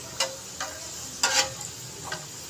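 Black pepper and cumin roast in a pan for chickpea rice, with a soft sizzle under four or five quick, light scrapes of a spoon stirring the spices, close by and brief, with no voices.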